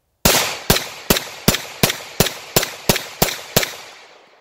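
Nine pistol shots from a Tisas Regent BR9 with a 15-round Mecgar magazine ring out in a steady, evenly spaced string, each a sharp loud crack with a short decaying echo, no talking.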